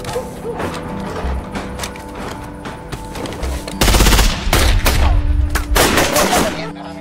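Heavy automatic gunfire erupts in a film shootout between rebels and agents, loud rapid bursts and fusillades arriving after a tense rumbling lead-in, with crashes and near, dense rattling volleys.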